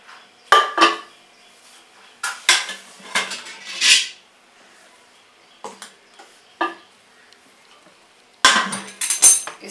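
Metal clanks and clinks as a dhokla tin is lifted out of a pressure cooker and set down, several sharp bursts separated by short pauses, close by with no talking.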